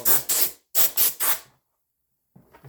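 Compressed air from a shop air compressor blown in short hissing bursts while servicing a Roomba i4 robot vacuum, five close, loud blasts in two groups, then a pause and faint handling noise.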